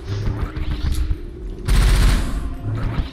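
Loud, sustained gunfire from the video game Rusted Moss, a dense barrage of shots and blasts that swells midway over a rumbling game soundtrack, with no talking.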